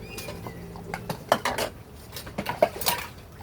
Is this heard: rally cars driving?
no